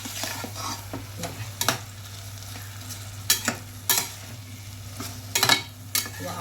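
Masala rice made with village-grown rice fries in a pan, a constant soft sizzle broken by repeated scraping strokes of a spoon stirring against the metal.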